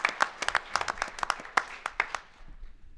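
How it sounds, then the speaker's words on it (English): A small audience at a town's state-of-the-town address claps in scattered, distinct, sharp claps that thin out and stop, leaving faint room noise. "And how about a big round of applause for our Assistant Town Manager, Abigail Adame."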